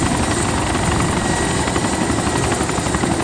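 A military helicopter in the survival game DayZ, flying back toward base from an oil rig, gives a loud, close, continuous rotor thrum with steady blade chop and engine whine throughout, with no voices.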